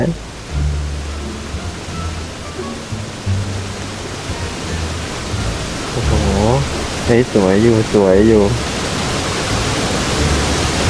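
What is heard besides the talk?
hailstorm in Roblox video game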